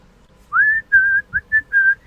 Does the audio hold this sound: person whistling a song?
yes